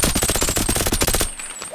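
Rapid automatic bursts from an AS VAL rifle in the virtual reality game Boneworks, a fast loud stream of suppressed shots lasting just over a second before stopping cleanly.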